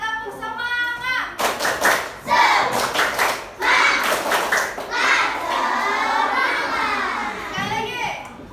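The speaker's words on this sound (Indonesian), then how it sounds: "1, 2, 3, tepuk semangat." A class of fourth-grade children performs the 'tepuk semangat' clapping chant, rhythmic bursts of loud, close hand claps mixed with shouted chanting voices, and a teacher's voice is heard speaking at the start and end.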